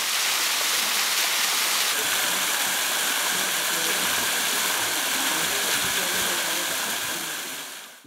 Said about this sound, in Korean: 그 옆에 시원한 물줄기 원역폭포가 오가는 이들의 눈길을 사로잡는다